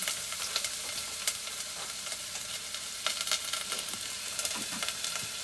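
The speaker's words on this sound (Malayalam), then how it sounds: "ഈ ഉള്ളി വറുത്ത് വരണമെങ്കിൽ ഇത്തിരി സമയം എടുക്കും" Onions fry in a pan with a dense, continuous sizzle, dotted with sharp crackles and pops, close and fairly loud with no talking.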